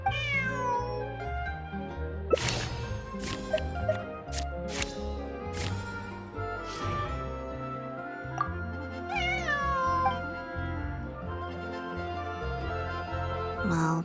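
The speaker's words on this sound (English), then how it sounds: "This is my friend's cat." A house cat meows repeatedly, its drawn-out calls rising and falling, close and clear over quiet background, with a few sharp sounds in between.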